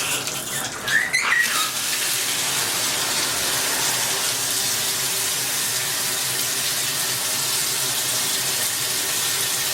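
Water runs through a newly installed Vida Alegria UBER Mist hand-held shower during a leak test. It makes a steady, close, hissing flow with a brief splashy burst near the start, and no one speaks.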